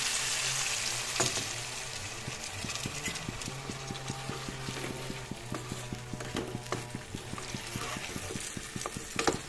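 Fish sizzles steadily in a pan after a little water is added, a moderate, crackling fry with rapid popping throughout and no talking.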